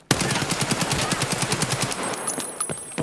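Close, loud automatic gunfire in the game Escape from Tarkov: a rapid sustained burst of evenly spaced shots for about two seconds, then a couple of scattered single shots as it tails off.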